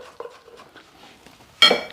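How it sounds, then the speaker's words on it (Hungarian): A kitchen knife is set down and a bowl is pulled across the counter while cooking potatoes with chopped meat: soft light clinks and scrapes, then one sharp, louder clatter near the end, close by with no talk. "kést félreteszem, tálat idehúzom"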